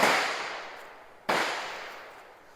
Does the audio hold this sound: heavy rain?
no